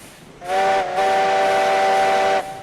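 A Heisler steam locomotive whistle in the game RailRoads Online blows one long, loud, steady tone with a brief dip near the start. The blast rises over a soft hiss and holds for about two seconds.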